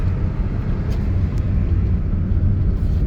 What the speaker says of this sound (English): There's a lot of traffic here, but it's not like in Nairobi.